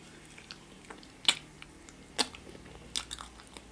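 Taro-flavoured mochi ice cream is bitten and chewed close to the mic, with a few sharp crunchy bites standing out over soft, quiet squishy chewing in an otherwise still room.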